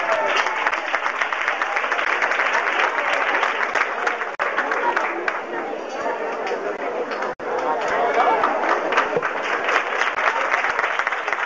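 Loud, dense applause fills the hall for a carnival comparsa group at the 1997 Nerja carnival, sustained for the full length with crowd chatter mixed in and two brief dips.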